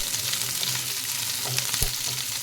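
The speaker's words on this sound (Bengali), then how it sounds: "নিয়ে এগুলো একটু জোরে গ্যাসেতে দিয়ে ভালো করে ভেজে নেব" Pieces fry on high gas heat in a pan, giving a steady, loud, close sizzle and crackle with occasional soft stirring knocks, and no voices.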